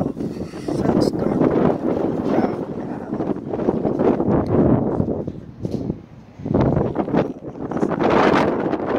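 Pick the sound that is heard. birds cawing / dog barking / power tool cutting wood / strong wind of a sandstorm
strong wind of a sandstorm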